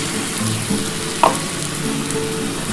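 Poppy-seed water hits potatoes frying in a pan for Bengali aloo posto, setting off a steady close sizzle with a brief splashy spike partway through.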